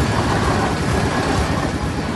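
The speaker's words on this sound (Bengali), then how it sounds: "তো ট্রেনের আওয়াজ তো দেখো" A train passes nearby during a chariot festival outing, a steady broadband rumble and rattle filling the moment without voices.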